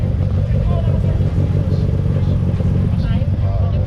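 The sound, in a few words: Mitsubishi Lancer Evolution car engine idling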